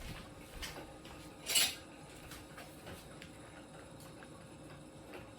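Metal cutlery clinks and rattles as someone rummages through a kitchen drawer for a spoon, with a few sparse taps and one sharper, louder jangle, fairly close and quiet overall.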